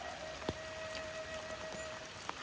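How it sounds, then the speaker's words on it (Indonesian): Rain still falling on a slick, steep road after a heavy downpour: a soft, steady hiss of drizzle with a few scattered drop hits, faint and distant, and no voices. "Karena masih hujan juga."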